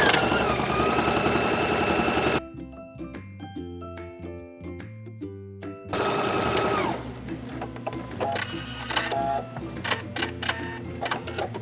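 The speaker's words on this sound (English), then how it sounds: "now we're going to sew down the side seam." A sewing machine runs close by as it stitches the side seam of a tote bag, in a loud continuous stretch, a pause filled with light clicks and handling, then renewed stitching.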